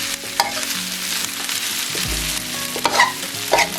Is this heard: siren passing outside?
no